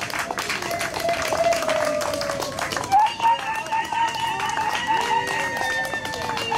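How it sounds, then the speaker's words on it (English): Audience applause at a Ugandan nurses' award ceremony greeting the Nurse of the Year, a dense burst of clapping that runs throughout alongside steady tones and a speaking voice over the top. "Can we give her a round of applause?"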